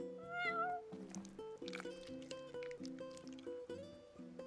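In Final Fantasy XV, a cat lets out a high meow at the start, then plucked game music carries on at low level with faint chirpy sounds over it.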